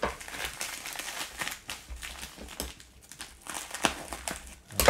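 Crinkling and tearing of a USPS padded mailer being sliced open, a series of close, irregular crackles and rips over about five seconds with a sharp burst at the end.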